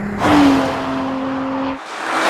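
A 2014 Cadillac CTS V-Sport with an 8-speed automatic in manual mode accelerates hard on a track. The engine note is loud and steady and climbs in pitch, then cuts off sharply near the end before the drone returns. No one speaks.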